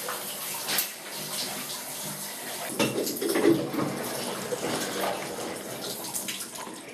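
Steady water from a home shower pours and splashes continuously, a broad hiss with occasional louder spatters, fairly close and alone with no talk.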